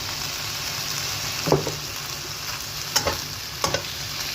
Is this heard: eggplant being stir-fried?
yes